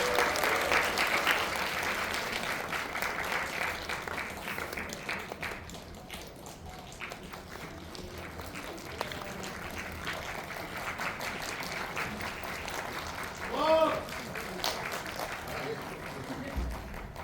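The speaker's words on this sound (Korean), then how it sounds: "힘찬 박수로 모시겠습니다" A cinema audience at a Megabox Coex film talk event applauds to welcome the director and cast, sustained crowd clapping that swells, dips slightly midway, and carries on for over fifteen seconds, with a voice briefly rising near the end.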